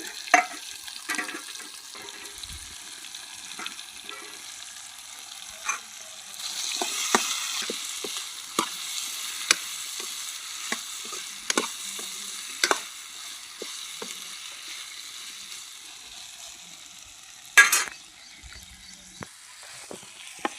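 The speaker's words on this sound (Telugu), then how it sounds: "ఇప్పుడు మనం కలిపి పెట్టుకున్న క్యాలీఫ్లవర్ ముక్కలు అయితే వేసుకుందాం." Cauliflower pieces tossed into hot oil tempering and stirred, giving a steady close sizzle with repeated sharp spoon-on-pan clinks and scrapes and a brief louder burst of crackle near the end.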